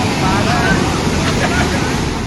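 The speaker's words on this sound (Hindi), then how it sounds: "पानी का बहाव काफी तेज था।" Fast-flowing flood water surging through a city drain during heavy flooding in Delhi, a constant loud rushing roar with turbulent, broadband hiss and no breaks.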